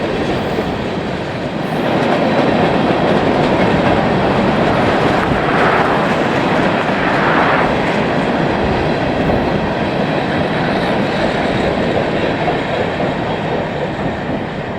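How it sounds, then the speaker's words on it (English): A freight train hauled by two EMD SD40-2 locomotives and a GP50 rolls past close by on the Union Pacific and CSX Villa Grove Subdivision, a loud continuous rumble of wheels and rail clatter that holds steady throughout. "Power on today's M train consists of two EMD SD40-2s as well as a GP50."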